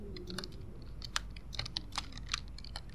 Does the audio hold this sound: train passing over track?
no